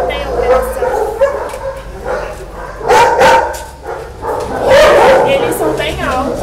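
Several dogs bark, yip and whimper inside a kennel where they sleep and eat, the loud bursts coming repeatedly at close range, with voices also heard.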